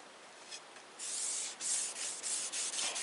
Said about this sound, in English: this is Minwax's wipe-on poly